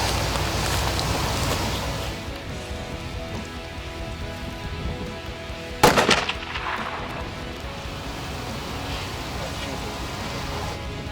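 A single sharp hunting rifle shot cracks out during a guided hunt, followed by a short decaying echo over a steady outdoor background hiss.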